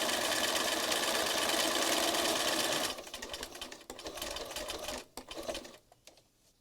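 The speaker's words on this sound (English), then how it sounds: "I'm just going to turn it around and stitch some in different directions." Sewing machine stitching through a mixed-media collage card, a loud rapid whirring buzz for about three seconds, then quieter short bursts of stitching as the card is turned.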